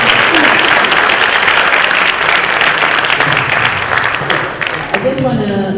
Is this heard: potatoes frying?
no